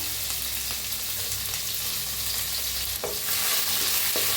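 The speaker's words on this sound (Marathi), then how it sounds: "छान असं हलवून घेऊया आपण" Cumin, mustard seeds, asafoetida, crushed chilli and garlic frying in oil while being stirred, a loud continuous sizzle with the scrape of a spoon, close up and without any talk.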